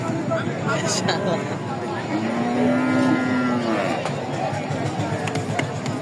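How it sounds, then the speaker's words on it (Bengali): Sahiwal and Gir bulls: a cow moos in a long, low call amid crowd chatter and background noise, with people talking nearby throughout. "রাজ্জাক ভাই সংগ্রহ গরুগুলো আমরা দেখবো"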